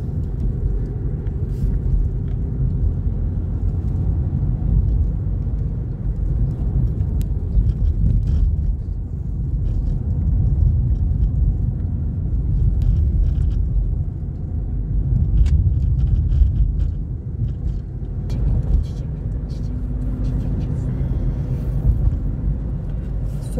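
Heard from inside a car on a drive, a steady low engine and road rumble continues throughout with faint rattles and wind noise, no voices.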